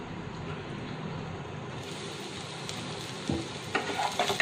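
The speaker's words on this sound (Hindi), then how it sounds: "नमक डालने के बाद हम इसे 3-4 मिनट ढक के रखेंगे ताकि ये आलू जो है अच्छी तरह रोस्ट हो जाए" Potatoes with salt roast in a covered pan with a soft, steady sizzle, joined near the end by a few louder scraping and clattering knocks close by.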